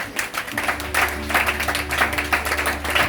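A church congregation claps for Jesus Christ, steady dense applause over a sustained low droning tone throughout.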